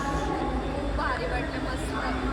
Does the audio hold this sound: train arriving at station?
yes